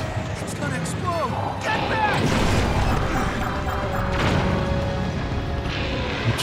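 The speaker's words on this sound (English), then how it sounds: "just gotta watch out for all the explosions" Explosions from a boss fight against Marbled Gohma in Zelda: Tears of the Kingdom come as a few heavy crashing bursts. They are set against game effects and a constant background rumble.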